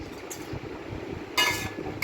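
A lid comes off a pot of cooked taro flower curry with a brief bright metallic clink partway through, over a low kitchen hum.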